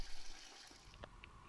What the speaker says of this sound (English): I'm just pouring it in straight from the faucet.